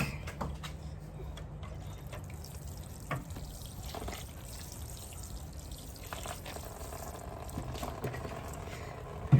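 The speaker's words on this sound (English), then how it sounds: "Go ahead and water this one in real quick." Rainwater pours steadily from a watering can onto soil and strawberry plant leaves, a continuous soft splashing trickle with no talking.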